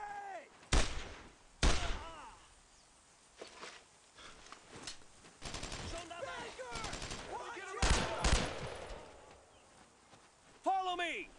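Gunfire and explosions from the World War II shooter Brothers in Arms: Road to Hill 30, scattered sharp bursts and blasts at varied distances with quieter gaps between, mixed with voices talking.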